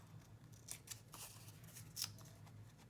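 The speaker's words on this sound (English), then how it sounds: "So what we'll do is I'm gonna fussy cut this." Scissors snip paper in careful, fussy cuts for a handmade journal: a few quiet, crisp snips spaced irregularly and heard close up, with no talking.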